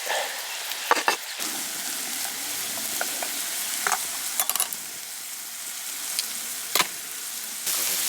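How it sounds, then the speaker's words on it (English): Mushrooms cook in a covered pot over a dying campfire high in the mountains, a faint steady sizzle and simmer with occasional sharp clinks and knocks, heard alone without talk. "It sounds like we've just started boiling, so they can steam up top."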